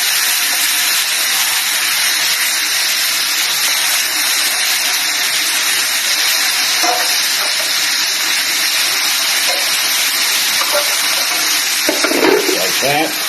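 Burger patties sizzling loudly and steadily on a hot griddle for a double cheeseburger, a dense continuous hiss, with a few soft scraping knocks near the end as the patties are flipped.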